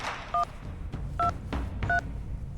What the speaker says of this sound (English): I'm just here to make a phone call.